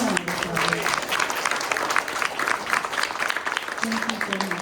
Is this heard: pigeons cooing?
no